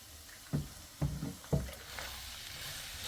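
Chicken liver dropped into a pan of fried onions, three distinct thuds and splats at half-second intervals followed by a soft continuous sizzle, close and fairly quiet.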